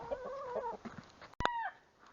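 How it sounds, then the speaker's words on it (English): Chickens cluck and squawk close by as they are herded into their coop, a few throaty calls followed by one sharp, loud squawk, then quiet. "Alright, chickens are all in."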